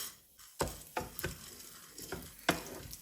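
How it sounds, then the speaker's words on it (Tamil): Sunflower seeds and cardamom fry in ghee for nut laddus, quiet crackles and scattered sharp pops and stirring clicks over a low background. "எண்ணெய் நெய் விட்டுட்டு சூரியகாந்தியையும் ஏலக்காயையும் போட்டு வரும்"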